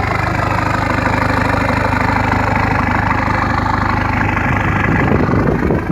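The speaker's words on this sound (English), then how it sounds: "that's a nice engine. Ticks over lovely. No clunks, no knocks, nothing." Range Rover engine ticking over at idle, a steady, loud, low rumble held close to the microphone for six seconds without knocks or changes, no voices.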